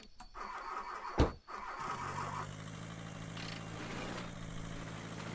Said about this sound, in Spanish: ¿este carro le está fallando el arranque o qué?